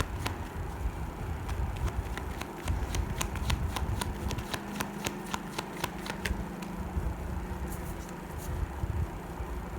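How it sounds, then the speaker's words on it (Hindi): Tarot cards being shuffled by hand during a reading, a steady run of crisp riffling flicks and snaps close up, with no talking. "one more last shuffle"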